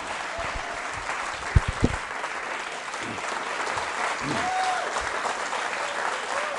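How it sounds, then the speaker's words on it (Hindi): An audience at a school quiz show applauds steadily for several seconds, a dense crowd clapping that carries on beneath a voice. "तालियां जोरों से बजाइए सर।"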